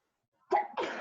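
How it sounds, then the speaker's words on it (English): A single sneeze bursts out of silence during an online art class, a sharp explosive blast followed at once by a second breathy burst, close to the microphone. "I'm gonna sneeze."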